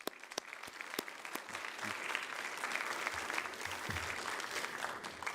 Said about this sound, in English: So a round of applause for those folks,